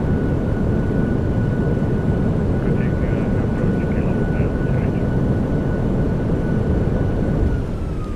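Boeing 737-800 in a flight simulator decelerating on its landing rollout, a loud continuous engine and reverser roar with a faint steady whine, holding level throughout.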